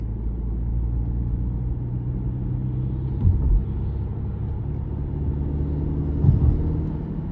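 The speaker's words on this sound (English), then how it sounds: "Really, really good turbo pull." 2023 Subaru Ascent Limited with a 2.4-litre turbo engine accelerating in manual mode, a steady low cabin rumble and drone with a couple of brief bumps, heard from inside the car.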